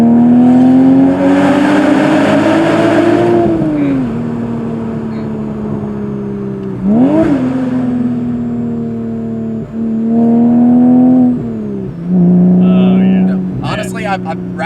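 A Porsche 986 Boxster with a Fabspeed Supercup exhaust, heard from inside the car, drones steadily and then rises in repeated revving pulls through gear changes, loud and close, with voices talking over the engine.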